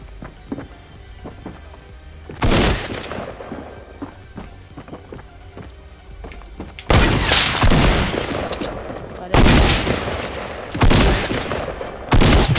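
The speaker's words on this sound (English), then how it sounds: "I hit him for 90 with the hunting rifle." Hunting rifle gunshots in a shooter video game: one loud crack, then a cluster of heavy shots close together, over a steady bed of running footsteps and game ambience, with no voices.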